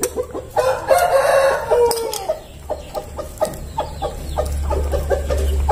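A rooster crows loudly near the start, followed by repeated clucking from chickens nearby, with scattered sharp clucks continuing throughout, as a pet monkey eats breakfast.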